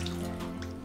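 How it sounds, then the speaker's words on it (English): Half a cup of water poured into a cooking pot holding chili spices, salt and habanero, a steady close splashing stream that runs the whole short moment with no talk. "And I'm gonna add half a cup of water."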